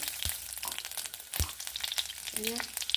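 Cumin seeds frying in ghee in a pan, a steady close crackling sizzle running throughout with a few sharper pops and brief stir-like knocks near the end.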